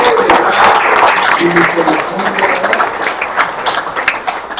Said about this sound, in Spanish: Un aplauso a Dios que nos creó